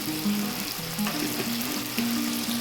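Masala of spices and oil fries steadily in a pan for a desi mutton curry, a continuous close sizzle with faint scraping and a tonal hum running beneath, no voices.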